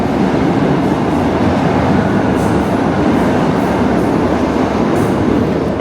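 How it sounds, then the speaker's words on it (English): A New York City subway train rumbles beneath the street grates, a loud, continuous roar with faint rhythmic clatter and a few high squeals, steady from start to end with no talk. "just listen to that subway, which of course you can hear through the grates down below"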